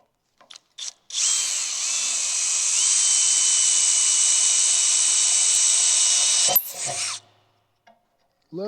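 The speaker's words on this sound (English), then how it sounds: "Clamp this baby down, drill some holes." Power drill boring holes with Matco step drill bits in a loud shop while working on a Squarebody engine bay firewall; a steady, loud whine runs about five seconds after a few brief taps, then winds down.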